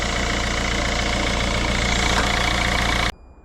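A Peugeot Partner 1.6 HDi diesel engine idles steadily and loudly up close, with a dense even rattle that cuts off abruptly near the end, leaving a faint quiet tail.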